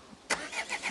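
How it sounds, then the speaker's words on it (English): An old C30 truck engine cranks and catches outdoors by a creek, with a sharp burst of starter noise followed by a rough, uneven run-up, close and fairly quiet, with no talking. "let's take the old C30 here. Get her fired up."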